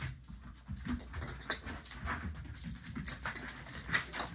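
A dog whimpers and whines softly while searching for its toy wedged far under furniture, faint broadband whining and snuffling with light scrabbling, no talk.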